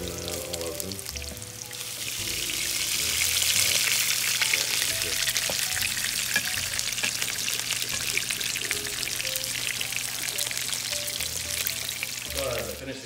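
Venison meatballs fry in a pan with a steady, loud sizzle that swells after the first couple of seconds and holds, with a low hum underneath and a brief voice at the close.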